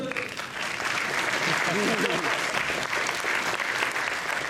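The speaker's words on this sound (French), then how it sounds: "On peut applaudir, c'est cool." Audience at a festival show applauding, a sustained crowd clapping throughout with a voice speaking over it near the start and middle.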